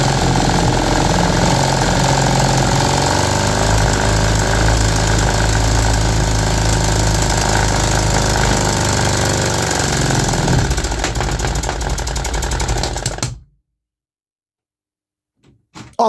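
A small 3D-printed engine runs continuously and loudly up close, a steady dense roar that cuts off abruptly near the end, leaving near silence with a brief faint knock.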